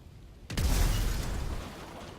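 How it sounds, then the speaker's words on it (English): A video game explosion in Grand Theft Auto V: a sudden loud boom that hits at once, then a long rumbling roar that fades slowly over the next second and a half, with no talk over it. "Just don't look at the explosion."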